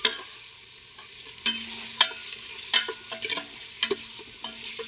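Pork fat frying in a pan for Bicol Express, a steady close sizzle broken by several scraping stirs and spatters, with no talking.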